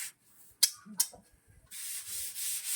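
A couple of sharp scrapes, then steady rhythmic rubbing of sandpaper on a surface during tiling and skim-coat work, close and fairly quiet.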